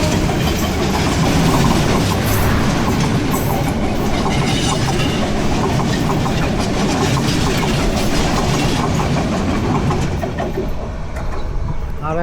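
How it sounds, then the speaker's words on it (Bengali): The Lalmoni Express rushes past on a crossing, a loud continuous roar of wheels and carriages with rhythmic clatter sustained throughout, heard close up from a neighbouring train. "এটি লালমনি এক্সপ্রেস। লালমনি এক্সপ্রেসের সাথে আমাদের ক্রসিং হচ্ছে।"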